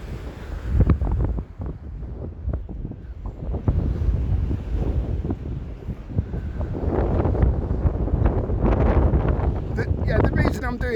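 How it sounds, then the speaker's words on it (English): Strong gusting wind roars across the microphone on a rough Blackpool seafront, with heavy waves breaking and surging beneath it, loud and continuous throughout. "sorry about the wind"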